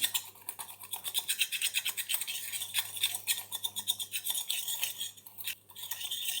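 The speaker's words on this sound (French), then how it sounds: "Et là, on va remuer." A homemade dry shampoo mixture is stirred briskly in a small container, producing quick, rhythmic scraping strokes that are close and fairly quiet, continuing steadily without any talk.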